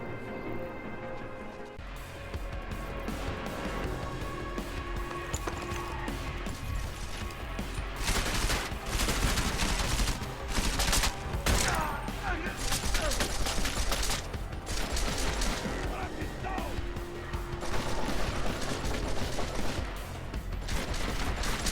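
Gunfire in Deus Ex: Mankind Divided: dense volleys of shots and crashing impacts run almost continuously, loud and close, with spoken voices mixed in beneath the fighting.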